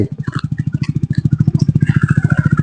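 A big motorcycle engine thumps close by in a rapid, even pulse, holding a steady low throb for a few seconds as the bike arrives.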